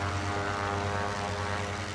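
A WW2 dive bomber's propeller engine drones steadily in a video game, a loud continuous aircraft roar with a low throbbing hum and no talk.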